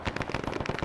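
Artillery and heavy fire in a Vietnam-era Arma Zeus operation, a rapid run of crackling bursts in quick succession, steady and dense, sounding at middle distance with no voices.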